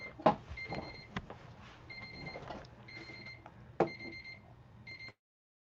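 A phone alarm goes off as a reminder for nighttime medication, sounding a repeated pattern of short electronic double beeps in regular bursts against quiet room noise, then ending abruptly.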